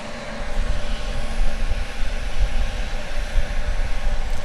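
An airliner on flight 1526 from Bozeman arriving at DFW Airport gives a steady, rumbling jet drone with a deep low-end throb, continuous and fairly close, with no talking.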